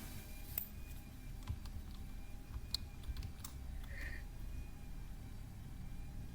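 Keys clatter on a computer keyboard while a prompt is typed into an AI image generator, sparse irregular clicks close by over a low steady room rumble, with no talking.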